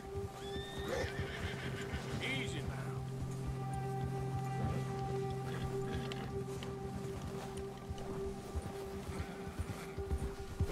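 A horse in the video game Red Dead Redemption 2 whinnies and snorts while agitated, with clip-clopping hooves and a steady drone of ambient game sound and music underneath throughout.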